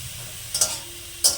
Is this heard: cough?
no